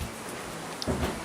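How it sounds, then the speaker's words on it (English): Rain falls outside during a rainstorm, a steady soft hiss with a slightly heavier burst of patter near the end, heard from indoors with no talking. "I came in here when it first started raining."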